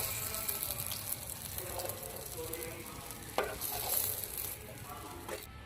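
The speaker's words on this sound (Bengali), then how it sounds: "এক এক করে আমরা এইভাবেই কোপ্তাগুলো ভেজে নেব" Banana flower koftas fry in hot oil with a steady close sizzle, broken by stirring and a few sharper clinks of utensils against the pan.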